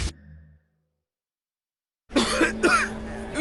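Dry coughing from a person in a television advert for Red Strepsils dry cough syrup: a short burst, about a second and a half of silence, then a louder, harsher run of coughs.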